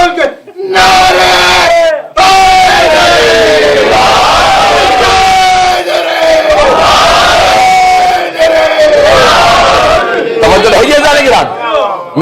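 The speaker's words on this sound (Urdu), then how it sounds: "دونوں ہاتھ اٹھا کے پنجہ کھول کے نعرے" A crowd chants slogans with hands raised, loud massed voices rising in repeated call-like bursts with short gaps between them, close and forceful.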